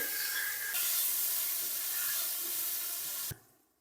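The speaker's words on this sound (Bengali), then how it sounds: "বেগুন আর পটল বাকি সবজিগুলো ভেজে নেবো" Brinjal and pointed gourd pieces fry together in hot oil with a loud, steady, close sizzle and hiss that swells slightly, then cuts off abruptly near the end. There is no talking.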